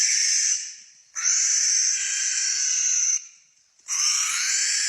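An owl gives long, harsh, hissing screeches, three loud raspy bursts separated by brief pauses, close and alone with no talk.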